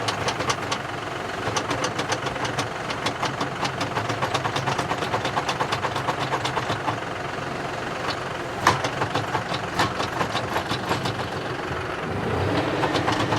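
A John Deere 5075E tractor works a post hole digger with a steady, loud engine drone and dense rhythmic mechanical clatter throughout, with one sharper knock near the end.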